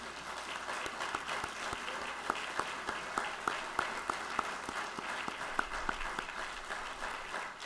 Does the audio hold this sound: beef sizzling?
no